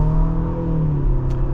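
A 2025 Infiniti QX60 Luxe AWD accelerating in auto mode, with a steady, loud engine hum and road drone heard from inside the cabin.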